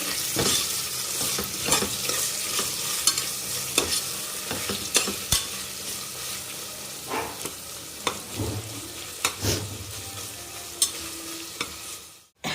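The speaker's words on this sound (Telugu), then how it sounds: "ఒకసారి అయితే బాగా కలుపుకున్నాము." Masala with tomatoes being stirred and fried in a pan for chicken dum biryani, with a steady sizzle and repeated sharp scrapes and taps of the spoon against the pan, no talking.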